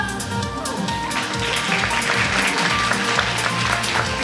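Audience applause fills a Mrs. Japan Okinawa 2019 pageant hall, a dense, steady clapping that carries on for several seconds with a faint voice underneath.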